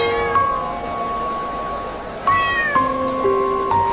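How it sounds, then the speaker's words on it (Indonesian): Kitten meowing softly in a crowded place, a few separate mewing calls with short pauses between them, close and clear, over a low background murmur with no talking. "mengeong pelan."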